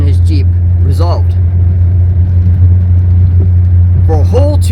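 A 1990 Eagle Premier driving, its steady low engine and road rumble droning close and constant under a man's speech throughout.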